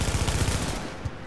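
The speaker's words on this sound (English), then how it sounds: "I'm getting shot in the back!" Rapid automatic gunfire in a shooter video game hits the player during a gas station rooftop fight, fast loud bursts of shots that thin out near the end.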